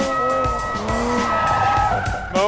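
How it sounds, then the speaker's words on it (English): A Toyota GR Supra drives over a fresh hot cheese pizza at Daytona, giving a loud, steady engine drone with rising and falling pitch and a burst of tire squeal near the end. "Use the power and agility of the Supra to demolish a fresh hot cheese pizza."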